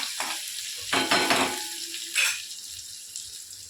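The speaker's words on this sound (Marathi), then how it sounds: "वाटलेला ठेचा तो घालायचा आहे। छान असं परतून द्यायचा।" Crushed green chili thecha sautéing in a hot pan: soft sizzling broken by a few louder bursts of stirring and scraping, close and fairly quiet, with no talking.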